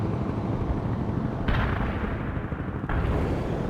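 Heavy artillery barrage in the strategy game World in Conflict, with loud, dense rolling booms and rumble forming a constant wall of sound that surges twice, no speech heard.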